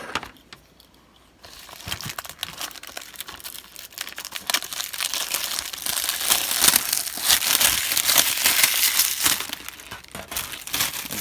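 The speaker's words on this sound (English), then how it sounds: "And this one I actually have to unwrap still." Plastic shrink wrap being torn and peeled off a Blu-ray case, loud close crinkling and crackling that builds after a brief quiet start and continues steadily with no talking.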